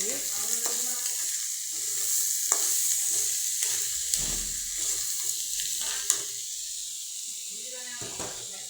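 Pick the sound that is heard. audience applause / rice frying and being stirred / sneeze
rice frying and being stirred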